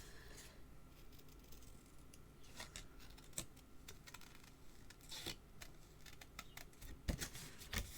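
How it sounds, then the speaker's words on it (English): Snips fussy cutting around a stamped paper flower for a handmade card, giving a quiet series of crisp, irregular snipping and rustling clicks close by, with no talking. "I'm going to get my snips and now I'm going to fussy cut this out"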